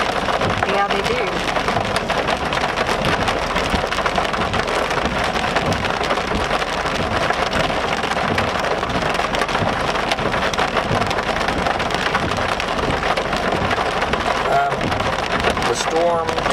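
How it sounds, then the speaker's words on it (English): Heavy rain pours during a severe thunderstorm in southwest Oklahoma, a dense, continuous hiss of drops hammering nearby surfaces throughout, while people talk over the downpour. "Man, lightning with these storms mean business."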